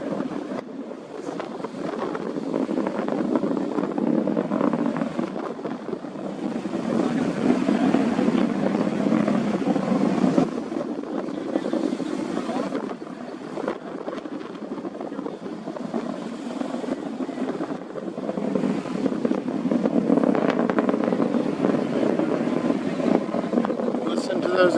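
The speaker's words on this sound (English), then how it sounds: "Listen to those engines though." A broad, steady roar from SpaceX Starship SN15 rocket engines drones from a distance, swelling and easing slightly over time, with wind buffeting the microphone.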